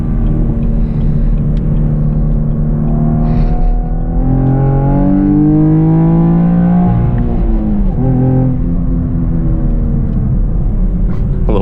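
A Chevrolet Camaro RS V6 1LE accelerates hard on a road, its engine rumbling loudly and climbing through the revs in rising sweeps, with a brief dip around a gear change before pulling again, heard from inside the car.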